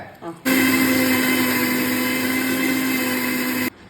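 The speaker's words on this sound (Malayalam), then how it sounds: "എന്നിട്ട് ഇത് നല്ല വെണ്ണ പോലെ അരച്ചെടുക്കാം" A mixer grinder whirs at full speed, grinding sautéed ingredients and coriander leaves into a smooth paste, a loud steady motor drone lasting about three seconds, then stopping abruptly after a brief start-up click.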